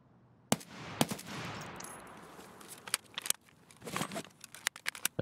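Weapon reload in Escape from Tarkov: a run of crisp metallic clicks and clacks, several sharp transients spaced irregularly over a few seconds, close and fairly loud with no talk.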